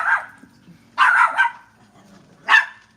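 A dog on a residential block barks three times in short, loud bursts with quiet pauses between them, close by and clear.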